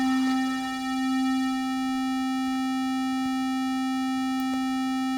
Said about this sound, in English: we kind of have a standard chorus sound as number 1